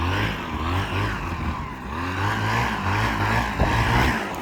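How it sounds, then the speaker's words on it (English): A paramotor engine drones loudly during a forward inflation on the ground, a steady, rough propeller roar with slight surges in pitch, close and continuous with no talking. "Forward inflation with a motor."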